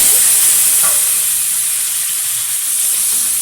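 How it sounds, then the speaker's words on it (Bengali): Pointed gourd and potatoes frying in hot oil, a loud dense hiss of sizzling oil that holds steady from start to finish, close and without talk. "এখন এই তেলেই ভেজে নেব পটল আলু"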